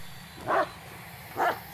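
A dog in the Blair Witch video game gives two short barks about a second apart, moderately close and clear over a quiet low background, with no voices.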